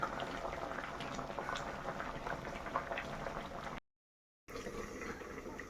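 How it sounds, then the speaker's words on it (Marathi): Steady bubbling of water at a rolling boil with corn cobs in it, close and continuous, with a brief dropout near the end before the bubbling resumes. "इथं मकाची कणस उकडाय घातली"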